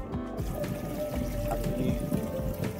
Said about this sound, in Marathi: इकडून खाली वाहत जातंय ते